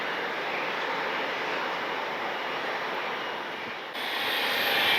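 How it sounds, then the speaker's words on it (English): A Southwest Boeing 737 taxiing at night at Cleveland Hopkins airport gives off a steady, broad jet-engine whine and rush, distant yet continuous, rising slightly toward the end. "we got a Southwest 737 on its way to the gate"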